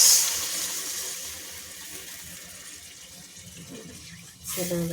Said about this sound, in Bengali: পানিরটাও কষানো হয়ে গেছে জল ঢেলে দিচ্ছি